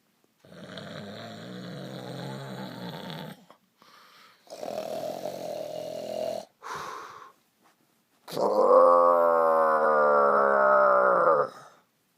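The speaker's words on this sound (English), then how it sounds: "would you please stop snoring so I can get to sleep around here?" An animated character snores loudly in drawn-out, rasping groans, three separate snores with short gaps, the last one long and buzzing, close up with no other sound.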